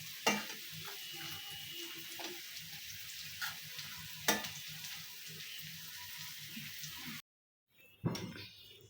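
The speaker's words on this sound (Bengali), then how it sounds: "এই চুলাটায় বড়াটা ভাজা পরে আমি চিংড়ি মাছটা ভাজবো" Bora fritters fry in a pan on a home stove, giving a soft, steady sizzle with a few sharp clicks. The sizzle is interrupted by a brief silence near the end, and no one speaks.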